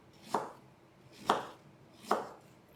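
A knife slicing through apples on a cutting board for a crumble, three crisp cuts spaced about a second apart, close and clear with no talking.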